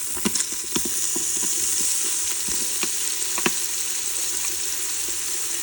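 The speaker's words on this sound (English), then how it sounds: "I'm going to go ahead and start sauteing my onions" Onions sauté in olive oil in a pot for a pot roast, producing a steady loud sizzle with scattered crackles and a few spoon taps, alone without any voices.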